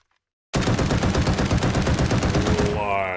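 Ash Battle Rifle fired in Delta Force, a sustained rapid burst of loud, heavy automatic gunfire close up, running for about two and a half seconds after brief silence before tailing off.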